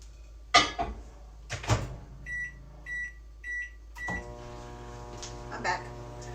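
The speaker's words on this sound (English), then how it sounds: "So now I need to microwave this for 40 seconds." A microwave oven heats a cup of brownie batter, its door clicking and keypad beeping in a short series of evenly spaced tones before the steady hum of the running oven takes over, close and moderately loud.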